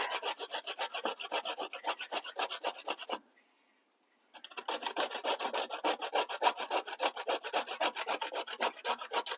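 Fresh ginger is rubbed against a box grater in steady rhythmic strokes, giving a fast, even rasp. The scraping stops briefly for about a second, then resumes at the same brisk pace. It is close and clear, with no voices.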